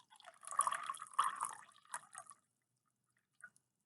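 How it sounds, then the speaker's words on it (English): Red coloured water is poured into yellow water, a brief trickling splash that fades after about two seconds, then a faint drip near the end. "What happens if I pour the red into the yellow?"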